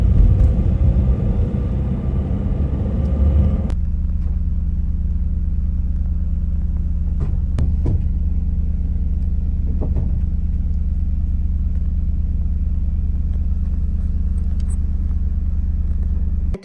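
A car driving along, a steady low engine rumble and road hum that fills the whole stretch, with a few faint clicks and knocks from inside the cabin.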